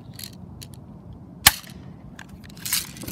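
Walther PPQ airsoft pistol fired without a suppressor gives one sharp, loud crack, followed by faint handling and rustling noises.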